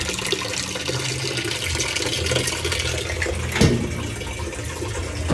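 Water running into a Whirlpool direct drive washing machine as it fills, a steady broad rush with a brief sharper splash partway through, with no talking.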